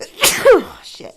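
A single loud, close sneeze, a sharp burst followed by a brief voiced tail, then a short spoken word.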